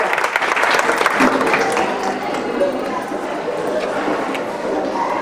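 A crowd applauds with dense, steady clapping that holds throughout, with a few voices mixed in.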